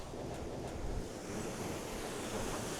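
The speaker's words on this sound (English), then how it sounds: "Look at the flow of that water." River water pours into a canal lock chamber as a steady, broad rushing roar, close and continuous throughout with no talk over it.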